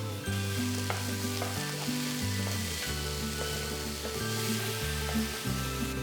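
Chopped green and red capsicum with finely chopped tomatoes sizzling in a pan, a steady close frying hiss with stirring scrapes and clinks breaking through at intervals.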